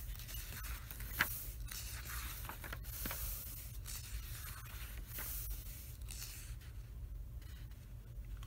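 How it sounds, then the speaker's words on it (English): Pages of a 1911 commercial arithmetic book are flipped one after another, with soft papery swishes and rustles close up, a few brief crisp flicks standing out at irregular intervals over a quiet background. "I'm skipping more pages now."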